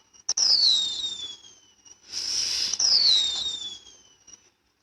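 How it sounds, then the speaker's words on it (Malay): Whistling fireworks in Roblox MeepCity: two rising-pitched shrill whistles, each sliding downward and trailing into a crackling burst, fairly loud, with a quiet gap between them and no talking. "Saya dah dengar bunyi-bunyi bunga api tu."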